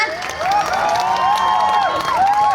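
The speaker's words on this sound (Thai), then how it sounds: "ขอเสียงปรบมือให้เขาได้ไหมคะ" A crowd at a Samut Prakan provincial election campaign rally in Thailand cheers and claps steadily, with whoops and shouts sustained loudly throughout, close and dense.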